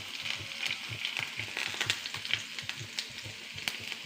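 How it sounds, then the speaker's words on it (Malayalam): Grated ginger dropped into hot oil with already-popped mustard seeds for a pachadi, giving a steady close sizzle with small crackles and pops throughout, no talking. "ഇനി നമുക്ക് കടുക് പൊട്ടിയിട്ടുണ്ട്. ഇതിൽ ഇഞ്ചി ഇങ്ങോട്ട് ഇടാം."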